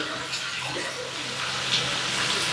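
Country chicken pieces for a curry are rinsed in water, a steady close splashing and running-water wash that continues without pause.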